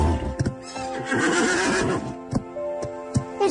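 A horse whinnies loudly and at length close by, with sharp hoof clops and thumps before and after the neigh, heard alone without talk.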